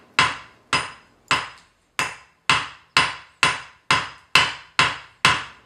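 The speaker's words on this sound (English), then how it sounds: "now I can go to the next step, which is to hammer it down the ring mandrel" A mallet strikes a gold ring on a ring mandrel in a steady series of about eleven sharp, ringing blows, evenly spaced and close, with silence between hits.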